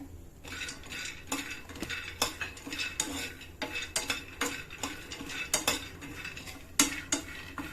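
Cashews and pistachios being fried and stirred in a pan, with a steady run of close metallic clinks and scrapes as a spoon knocks against the pan, and little audible sizzle.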